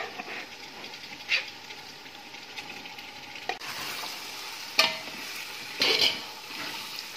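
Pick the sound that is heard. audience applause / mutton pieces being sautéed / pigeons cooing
mutton pieces being sautéed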